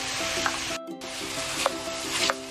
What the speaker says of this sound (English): We're just incorporating everything nicely. Mix it nicely.